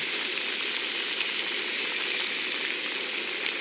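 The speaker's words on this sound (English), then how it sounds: "Got the food on simmering." Food simmering in a pot on a small Snow Peak camping stove outdoors by a river, giving a steady, even hiss and sizzle that runs unbroken throughout with no voices.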